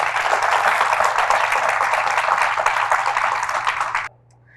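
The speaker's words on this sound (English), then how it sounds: "please give them a round of applause" Loud, dense applause from a studio audience at a televised health-policy discussion, continuous for about four seconds before cutting off abruptly into near silence.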